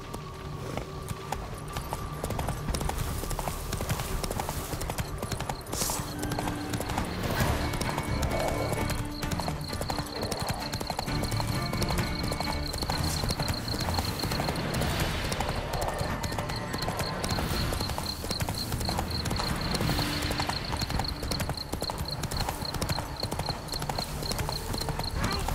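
Roach, a horse in The Witcher 3, gallops with steady rhythmic clip-clop hoofbeats throughout, loud and close over game ambience, with a brief whinny-like tone.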